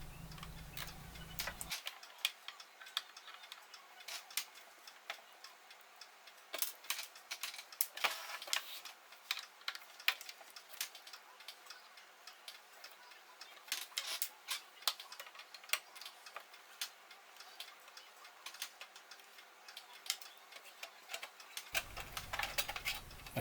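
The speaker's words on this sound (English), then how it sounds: "I'm getting the screws removed, taking off the casing, the top and bottom casing" Screws are removed and the metal casing is taken off a Yaesu FRG-7700 shortwave radio, a run of quick close clicks and small taps, sped up, over a faint hum.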